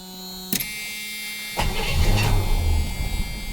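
A 1976 Chevrolet Nova with a 350 V8 cranks briefly and catches, then settles into a loud, rough idle close by, with no talking.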